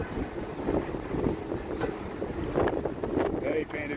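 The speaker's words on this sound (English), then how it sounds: "See, now we got wind." Gusty wind buffets the microphone on a Chicago street above ground on a very windy day, a steady, loud rumbling roar that continues throughout the clip.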